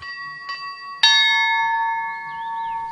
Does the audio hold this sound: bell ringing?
yes